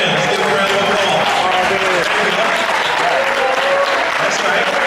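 Loud, dense applause from a standing crowd at a family reunion, continuous and close for several seconds, with voices mixed in.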